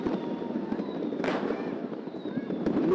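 New Year's night in Yakutsk with fireworks and salutes bursting around a courtyard, several sharp cracks and booms at varying distances over a constant crackling outdoor background.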